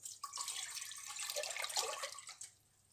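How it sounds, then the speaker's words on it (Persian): Water, measured at 750 millilitres, poured into a large pot to make syrup for tulumba, a close splashing and running stream that lasts about two and a half seconds, then stops. "این آب که انداختیم در ظرف."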